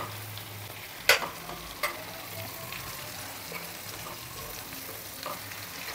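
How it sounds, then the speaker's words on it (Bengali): Chicken chaap pieces frying in a pan, a steady soft sizzle throughout, with two sharp clicks or clatters early on and faint bubbling crackle. "একদিকটা আমরা 2-3 মিনিটের মতো ভেজে নিচ্ছি।"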